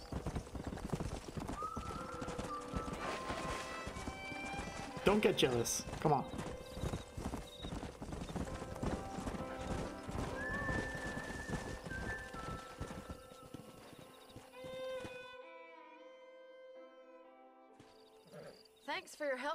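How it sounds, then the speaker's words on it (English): Horse neighs and clopping hooves in Red Dead Redemption, with repeated whinnies and snorts over continuous hoofbeats and ranch sounds, fairly close and loud, while someone talks to the horse; it quiets near the end. "I want this horse now."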